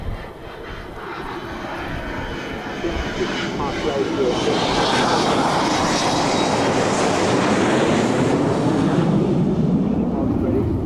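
An RAF Nimrod jet aircraft with its jet engines roaring during a flying display, the rumble building into a loud, sustained roar as it passes close overhead, with a commentator's voice over it.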